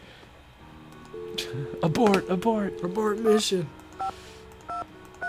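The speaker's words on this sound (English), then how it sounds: "I might have dialed wrong." Telephone keypad tones from the Nancy Drew video game Message in a Haunted Mansion sound as a few distinct beeps late in the clip, after a person speaks.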